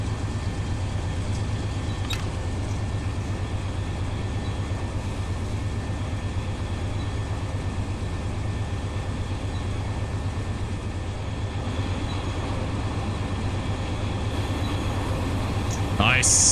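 A freight train rolling on a double-track main line in the Run 8 train simulator, a steady low rumble and wind noise heard from the cab, with a brief clank and a louder rush near the end.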